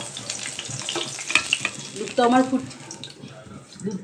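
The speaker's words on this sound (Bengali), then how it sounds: "ওইদিকে দুধটা ফুটছে, ভালোই ঘন হয়ে গেছে দুধটা" A pot of milk boils and bubbles steadily on the stove, with a soft continuous hiss and occasional clinks and voices in the background.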